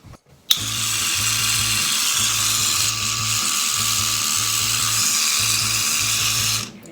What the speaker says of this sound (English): Now I'm going to show you how to use the electric toothbrush.